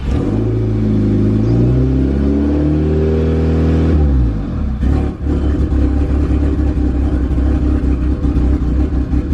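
A Volkswagen GTI engine fitted with a K04 turbo cranks and rises in a revving whine, then catches and settles into a loud, steady rumbling idle close by.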